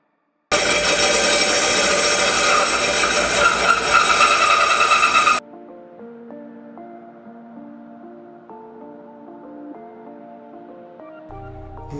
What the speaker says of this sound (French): il suffit de commencer à percer le trou à un angle comme ceci